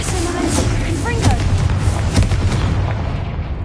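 Fiery Confringo spell blasts in Hogwarts Legacy, a dense run of booming explosive bursts and crackles over a continuous roar of game combat, with a shouting voice mixed in.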